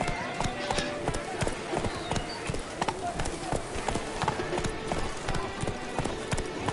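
Roach, a horse in The Witcher 3, gallops with steady, rapid hoof clip-clops close by, over a continuous game background; voices speak over the hoofbeats.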